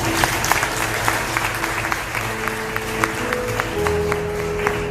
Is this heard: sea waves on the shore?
no